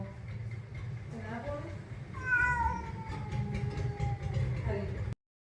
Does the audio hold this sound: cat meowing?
yes